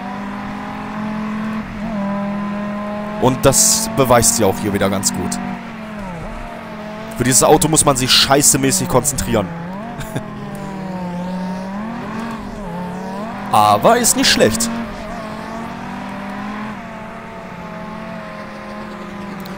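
Dodge Viper SRT-10 Coupe in the PC racing game World Racing 2 at Laguna Seca: a steady engine drone with repeated bursts of revving and tire squeal, heard under continuous talk.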